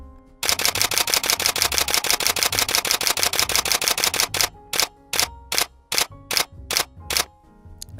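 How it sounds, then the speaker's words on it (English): Canon EOS 6D Mark II full-frame camera firing its shutter in high-speed burst mode, a rapid string of sharp mechanical clicks that slows into about eight separate shots at the end. "high speed shutter"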